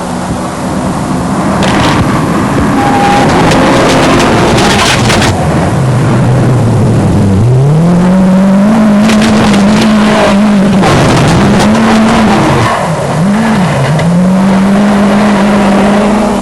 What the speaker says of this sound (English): The roar that comes from that titanium exhaust is just something else